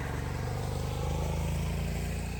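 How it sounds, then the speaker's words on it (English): A motorcycle passes close by on a busy outdoor street, its engine a loud, steady low drone that holds throughout with a slight rise in revving and no voices over it. "here comes a motorcycle."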